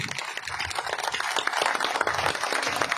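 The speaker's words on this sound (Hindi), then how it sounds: "खड़े होकर उनका दोनों हाथों से तालियां बजाकर उनका जो है ये उत्साहवर्धन करें" Audience clapping with both hands, standing to cheer on a speaker at a gathering of Bahujan women; dense, steady applause fills the whole stretch at moderate loudness, with no clear voices over it.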